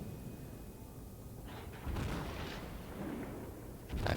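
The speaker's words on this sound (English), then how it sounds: "Firing off that turret." Distant, muffled booms of a warship's turret firing in World of Warships roll over a low constant engine and sea rumble, with a couple of dull blasts spaced a few seconds apart.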